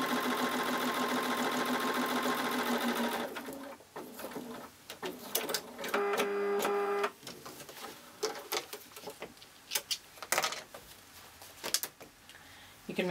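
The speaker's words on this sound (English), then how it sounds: "And we're just stitching all the way down." A sewing machine stitching along the edge of fabric for a change purse: a steady close whirring hum of needle strokes at first, then stop-start bursts of stitching mixed with light clicks and handling noise, with no talk.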